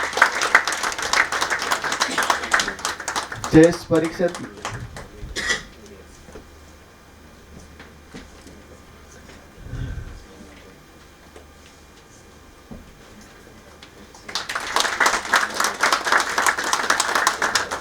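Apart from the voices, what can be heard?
audience applause at a conference felicitation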